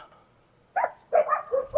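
Dogs bark at a campground site: one short bark, then a cluster of several sharp barks close by, loud against a quiet background.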